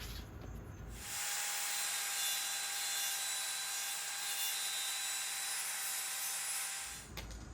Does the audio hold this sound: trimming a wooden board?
yes